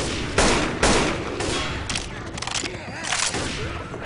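Shotgun blasts and rapid gunfire in Left 4 Dead 2 come as a dense, loud barrage of repeated booming shots with little pause between them.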